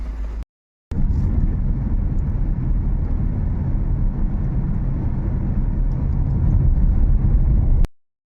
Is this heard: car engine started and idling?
yes